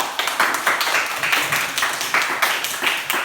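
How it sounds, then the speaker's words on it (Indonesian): A classroom group claps for everyone at school, a quick rhythmic run of hand claps in short bursts, moderately close and steady with no talking over it. "Tepuk tangan untuk semua."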